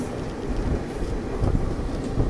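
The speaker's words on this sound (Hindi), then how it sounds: "कोई भारत गौरव टाइप की ट्रेन है।" A train rumbles past at a steady, moderate level in Madurai, India, low wheel noise rolling continuously with no voices.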